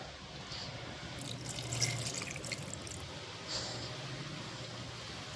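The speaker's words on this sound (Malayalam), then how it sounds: "കുറച്ച് വെള്ളം ഇതിലേക്ക് ആഡ് ചെയ്ത് കൊടുക്കാം" Water poured into a pot of chicken curry in a short, splashy stream, rising briefly then trailing off, followed by a faint second trickle.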